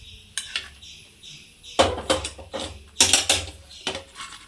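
A small cooking pan clinks and clatters close by in a few sharp metallic bursts with quiet gaps between them.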